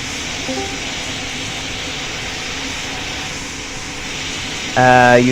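Airliner jet engines idling and spooling at a runway in the PTFS flight game, a steady broadband roar, with a tonal engine whine and a short rising beep sequence entering near the end.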